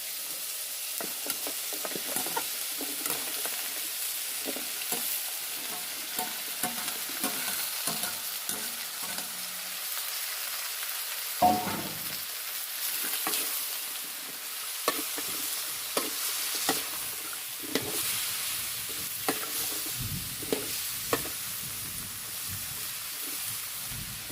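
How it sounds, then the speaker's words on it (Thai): Beef with garlic, then mixed vegetables, stir-fried in a pan in a garden in the forest: a continuous soft sizzle with frequent spatula scrapes and taps, fairly quiet, with no talking. "ผัดเนื้อกับกระเทียมไปก่อนนะครับ ตามด้วยผักรวมมิตรครับ"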